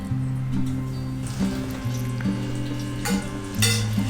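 Ghee and oil heating in a kadai, a soft continuous sizzle and crackle under a droning, steady tonal hum that runs throughout.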